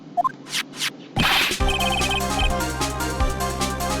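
A cell phone ringtone from the Phoenix Wright: Justice for All video game plays a steady electronic melody for several seconds after a few short game blips.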